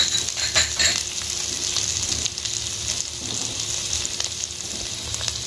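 Chopped ginger sizzles and fries steadily in hot oil with onion in a pan for a dhaba-style egg korma, a continuous crackling hiss with a few louder pops early on, with no talking.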